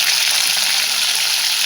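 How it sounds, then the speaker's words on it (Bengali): Vegetables for a pumpkin-stem curry frying in hot oil tempered with dried red chillies and five-spice seeds, a steady loud sizzle with faint stirring throughout. "সবজিগুলো ভাজা হতে থাক,"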